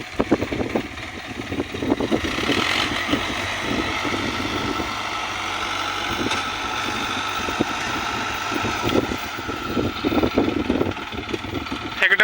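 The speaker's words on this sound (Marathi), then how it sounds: "एक महिंद्रा अर्जुनचं एक ट्रॅक्टर आहे आणि त्याच्या पुढं जॉन डियर आहे." Two tractors, a Mahindra Arjun 605 and a John Deere 5210, run their diesel engines at a steady mid-pitched drone while pulling a loaded trolley stuck in wet farmland, with a voice speaking over the engines throughout.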